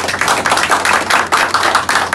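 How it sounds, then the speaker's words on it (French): A crowd applauds at a formal ceremony honouring an outgoing director general, steady dense clapping close and loud with a few rhythmic swells, no voices over it. "je vous demande d'applaudir"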